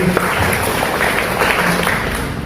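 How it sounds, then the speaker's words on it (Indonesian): Steady applause from a church congregation filling the room, continuous and fairly loud for a couple of seconds, with no talking. "Tepuk tangan untuk dia."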